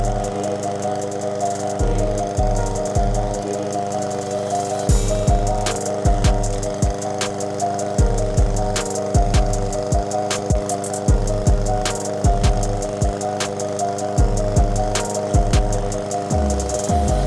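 A PowerSmart 22-inch self-propelled rear-wheel-drive lawn mower runs close by with a steady, loud engine drone, and sharp knocks and thumps recur irregularly over the hum as it cuts.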